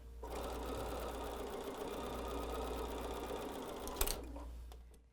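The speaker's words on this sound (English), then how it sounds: "now you're just sewing those columns together" A sewing machine runs steadily while stitching bubble quilt columns together, a continuous rapid mechanical whir with a low motor hum that stops abruptly with a click near the end.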